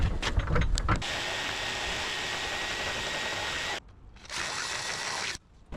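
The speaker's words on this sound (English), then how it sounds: "now with the drill I actually can get this a little bit aligned" A power drill whirs loudly and continuously, cutting out briefly once before spinning up again and stopping near the end.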